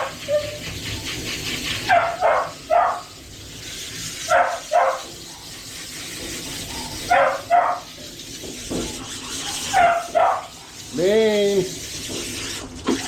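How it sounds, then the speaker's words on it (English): A wiener dog named Beans barks in short bursts of yips, then gives a longer whining howl during grooming. The barking comes close and loud, with quiet talk between the bursts. "Beans! Quit your barking, buddy."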